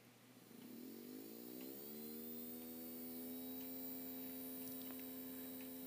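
A replacement electric motor with a flywheel in a model ALCO PA-1 locomotive rises in pitch and settles into a quiet, steady hum that runs on without stopping.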